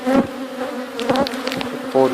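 Honey bees droning steadily around an open backyard hive during an inspection, a close continuous buzz with individual bees passing near and swelling louder now and then.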